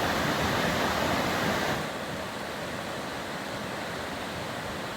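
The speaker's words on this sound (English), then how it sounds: "Water just flowing through these" Rushing water pours steadily through trees on a descent of Mount Whitney near Lone Pine Lake, a dense broadband roar that is loud at first and eases to a softer constant wash.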